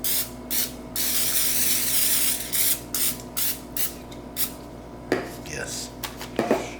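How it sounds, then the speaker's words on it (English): A long hiss of aerosol non-stick cooking spray onto a pie dish, followed by several shorter sprays and light clinks of the dish, with faint voices in the background. "Let's spray it with some non-stick."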